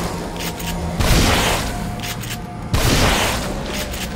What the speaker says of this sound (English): Should I just shoot him? Yeah, fuck it, shoot him.